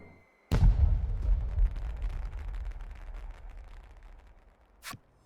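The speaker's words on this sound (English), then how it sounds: "I should like to set off some fireworks then, in honor of the dead." Fireworks set off in the video game Voice of Cards: The Beasts of Burden, a sudden loud boom followed by a long rumbling, crackling decay and a sharp second burst near the end.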